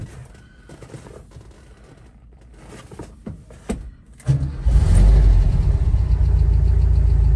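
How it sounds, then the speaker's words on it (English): A VW Type 2 Westfalia camper's engine cranks and catches after some quiet handling noises, then settles into a loud, steady low idle that continues to the end. "quick video of start up and running on this T2 Westfalia"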